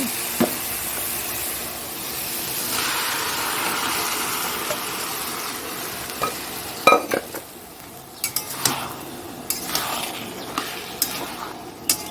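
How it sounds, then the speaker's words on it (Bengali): Boiled potatoes and peas tipped into a pan of cooked spice mix, a long hiss of frying at first, then scattered clinks and scrapes of a utensil stirring against the pan, with no talk. "চলো মশলাটা হয়ে গেছে এবার মটরগুলো দিয়ে দেবো আলু মটর সেদ্ধ করা ছিল"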